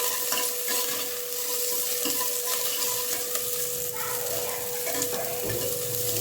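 Chopped onion and curry leaves frying in hot oil for drumstick sambar, giving a loud, continuous close-up sizzle and crackle with faint stirring scrapes and a faint steady hum underneath.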